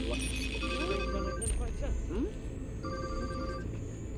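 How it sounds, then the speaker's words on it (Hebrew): A telephone rings in repeated bursts of bright bell tones during Deathloop gameplay, over a steady background hum and faint game sounds. "טלפון."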